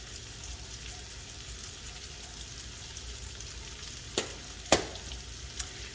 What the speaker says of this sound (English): I'm going to add some hot chili flake, give them a spiciness